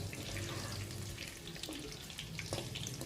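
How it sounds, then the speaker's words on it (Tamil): Peeled garlic cloves frying in oil for a bitter gourd tamarind curry, a quiet continuous sizzle and crackle with a few faint pops, steady and low in level. "அது வரைக்கும் இந்த எண்ணெயிலேயே நல்லா வறுத்துக்கோங்க பூண்டை"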